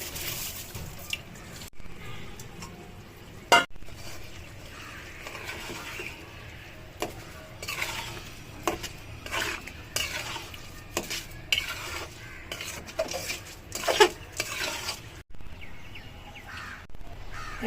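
Cooked rice goes into a pan in a cramped home kitchen and is stirred, with repeated scraping and clinking of a utensil against the pan, a few sharper knocks, and faint sizzling underneath; no one speaks.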